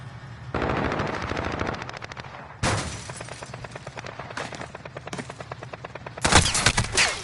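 Video game gunfire from a Scar H rifle sounds as sustained automatic bursts with a few pauses between them. A heavier, louder burst comes at the end, and no voices are heard.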